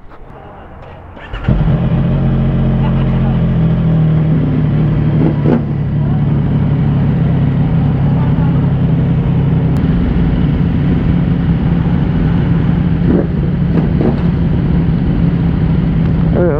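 A CFMOTO 675 NK motorcycle fitted with an aftermarket exhaust sits close by with a loud, steady, throaty drone that holds for most of the stretch, with a few small blips and no speech.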